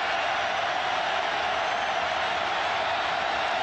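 A large stadium crowd at an Auburn vs Tennessee college football game roars in a steady, dense wash of noise that holds level for several seconds.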